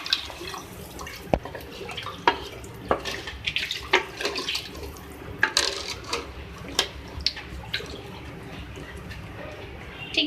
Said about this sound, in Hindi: अब मैं इसमें पानी ऐड करूँगी।